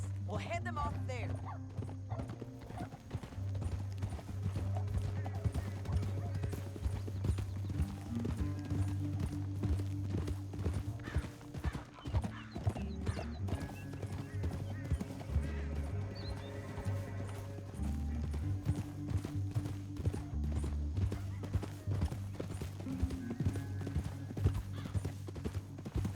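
Horse hooves clip-clop steadily through the Red Dead Redemption 2 game world, a continuous ride under a swelling orchestral score, with a horse occasionally whinnying.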